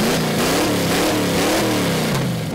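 A truck engine running with its exhaust straight off the headers revs loudly and close by, the pitch climbing and falling in steady waves with no talk over it.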